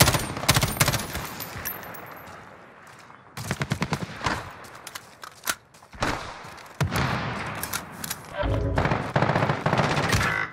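Call of Duty Warzone gunfire, with sharp automatic bursts and single shots in clusters separated by short pauses, loud and close amid game noise.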